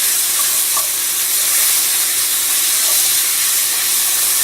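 Mushrooms and garlic fry in a pan, giving a steady, close, continuous sizzle and hiss with faint stirring scrapes, no voices.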